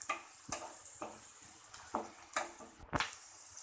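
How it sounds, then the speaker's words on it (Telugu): Turmeric fries in a pan for a pasta dish, a soft sizzle running beneath repeated scraping stirs that come in irregular bursts a few times a second, with no talking. "పసుపు వేసుకున్నాక కొద్దిగా స్మెల్ పోయేదాకా వేయించుకోవాలి"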